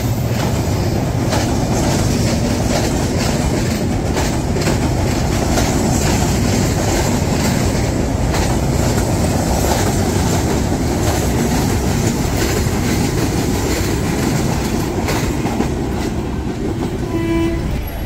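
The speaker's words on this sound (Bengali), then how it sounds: "এর আগে একটা ট্রেন দেখাইলাম" A train passes close by, with continuous loud rumbling and clattering of rail cars that holds steady throughout, and no voices.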